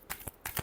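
Tarot cards being shuffled give a few quick, soft riffles and slaps in close succession, heard up close without talk.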